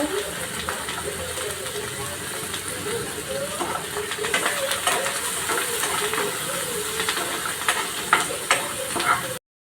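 Finely chopped onion, curry leaves and garlic dropped into hot oil in a kadhai, producing a loud continuous hissing sizzle with crackles, close up and without speech.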